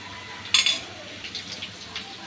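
Garlic paste drops into onions frying in oil in a pan for a pomfret fish curry, setting off a sudden sharp sizzle that fades into softer, scattered crackling.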